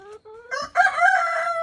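A farm chicken calls close by in a short burst, a rising clucking squawk that stretches into a brief crow-like cry.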